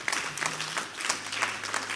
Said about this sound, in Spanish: ¿Le quieres dar un aplauso a Dios por su resurrección?